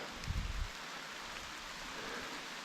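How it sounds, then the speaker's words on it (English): Steady rain falls during a hike to Secret Falls in North Carolina, a soft even hiss of drops on leaves and a tarp, with a brief low rumble or thump near the start and no voices. "and the rain starts."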